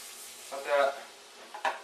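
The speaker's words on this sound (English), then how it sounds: "So we got the butter and the brown sugar going in there." Butter and brown sugar sizzle softly in a hot pan over a low hiss, with a couple of brief louder bursts of sizzling and stirring, fairly close and without talk.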